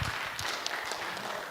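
Audience applause at a church-style life awareness seminar, a steady wash of many hands clapping at moderate distance, fairly faint and continuous throughout.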